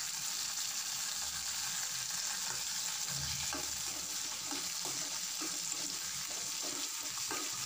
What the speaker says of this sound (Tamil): இதோட பொடியா கட் பண்ணி எடுத்துக்கிற இஞ்சி துண்டுகளையும் சேர்த்துட்டு நல்லா வதக்கிடலாம்